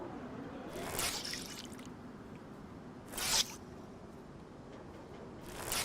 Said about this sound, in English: Trying to wring out me trousers.